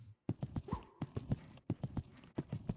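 Horse hooves clip-clop in Equestrian The Game, a series of short, evenly spaced thuds in a steady walking rhythm, close and moderately loud, with no talking over them.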